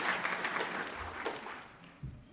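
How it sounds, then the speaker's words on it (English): Audience applause at a salmon restoration conference plenary, a short, fairly faint burst of steady clapping with no voices over it. "we can applaud Tommy."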